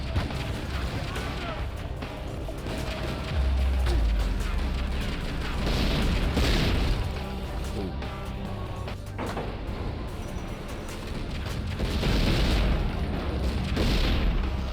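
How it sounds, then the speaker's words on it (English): A fuel tank detonates in the Tomb Raider Legend video game, with deep booming blasts and rumbling bursts amid dense, noisy action sounds throughout. "Defeat 2 enemies by detonating a fuel tank"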